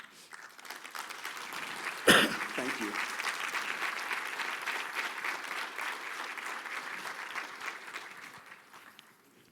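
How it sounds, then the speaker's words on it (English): Moderate audience applause in a hall honoring city department directors, a steady patter of clapping that follows a sharp close thump and slowly fades, with a brief spoken thanks and some background voices. "Can the directors please stand and receive a round of applause?"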